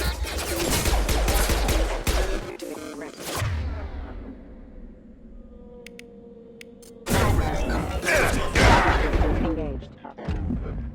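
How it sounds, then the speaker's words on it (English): Heavy gunfire rips through a Mass Effect 2 fight in dense rapid bursts, then drops out to a quiet electronic hum for a few seconds before the loud volleys resume, with voices shouting in between. "Taking heavy fire!"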